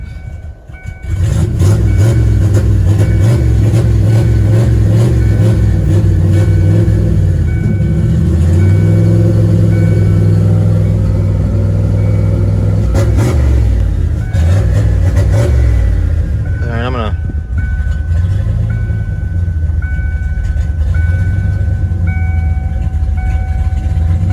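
A turbocharged 302 Mustang GT V8 idles loud and close with a steady deep rumble and slight rises and falls, while someone talks over it.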